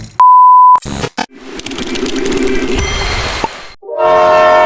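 A loud train horn blasts, then a Mumbai suburban train rumbles and clatters past close by, with another horn-like tone sounding at the end.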